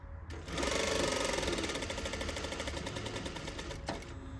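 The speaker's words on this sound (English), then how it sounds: "You're gonna lift your foot and move it over and continue sewing." A sewing machine stitching a flap onto a pocket runs steadily and close by with a fast, even mechanical chatter after a brief start, then stops abruptly near the end.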